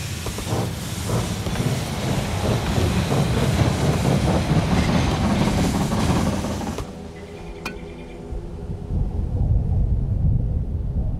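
Steady rumbling hiss and clatter of a train pulling into a station in the strategy game They Are Billions, loud and continuous, then cutting off sharply into a quieter tail with a brief tonal chime.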